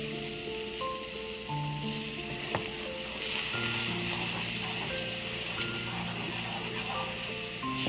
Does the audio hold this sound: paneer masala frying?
yes